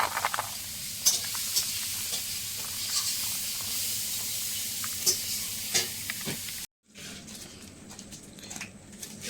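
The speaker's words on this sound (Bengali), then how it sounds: "চিংড়ি ভাজা হয়ে গেছে" Shrimp frying in a pan of hot oil, a steady close hiss and sizzle with light stirring scrapes, broken by a brief silent gap near the end before the frying resumes.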